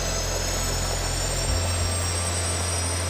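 Five small jet engines of a jet-powered flight suit idling at about 30,000 RPM, a loud steady roar with high whining tones, a low rumble shifting midway, continuous and close.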